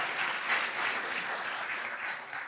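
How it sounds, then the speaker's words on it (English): An audience at a teachers' town hall event in Birmingham gives a brief, even round of applause, moderately distant and sustained without any speech on top. "So one more round of applause for Dr. Perry."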